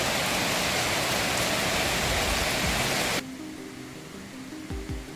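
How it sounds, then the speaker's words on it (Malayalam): A waterfall near Mamalakandam pours across a road in a dense, loud, steady rush of water. The rush cuts off abruptly partway through, leaving a quieter rumble with faint tones. "നമ്മൾ വരുന്ന റോഡ് ക്രോസ് ചെയ്തിട്ടുള്ള ഒരു വെള്ളച്ചാട്ടമാണിത്"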